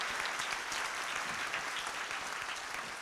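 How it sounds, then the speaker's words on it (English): Audience applause after a convention presentation, a dense, even wash of clapping from a large crowd that holds steady throughout. "Let's give you a big round of applause for inspiring us."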